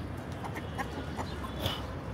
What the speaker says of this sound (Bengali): বাহ আমাদের মুরগি বড়ইও খায়